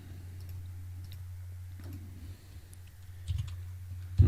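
Fingers tap a computer keyboard in sparse, light clicks over a steady low hum, faint and close, with a slightly louder burst of keystrokes near the end.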